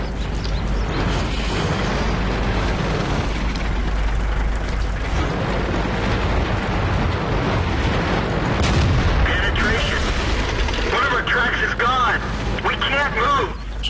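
A tank's 105 mm cannon on the FV4202(105) fires standard shells in World of Tanks, with heavy booms over a constant rumble of engine and battle noise, while people talk throughout.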